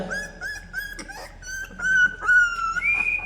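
Newborn Labrador puppies whimper and whine up close in a string of high, wavering cries, loud and persistent with short pauses, no talking.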